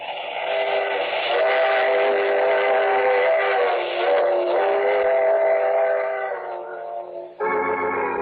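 A loud, sustained whistle-like tone over a steady rumble runs for several seconds, then cuts to a brighter, thinner tone near the end.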